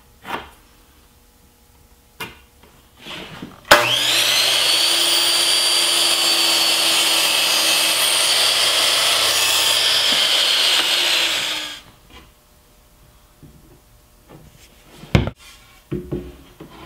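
A power saw cuts miters on a piece of 1x2 wood for a ping pong tabletop, making one loud, steady whine that runs for about eight seconds after some faint handling noises.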